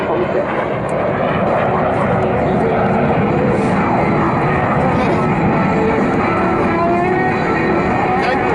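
A jet aircraft flying a high alpha slow pass at the 2019 Southport Air Show, a loud continuous engine roar that holds steady throughout while a commentator speaks over it.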